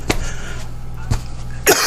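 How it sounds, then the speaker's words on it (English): A persistent dry cough from a man painting indoors: three separate cough bursts spread across a couple of seconds, close and fairly loud, with quiet room tone between them. "This persistent cough will come."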